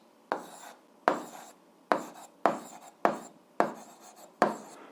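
A pen or pencil writing out a math solution on paper, seven short scratchy strokes at a steady, unhurried pace, close and quiet with no talking.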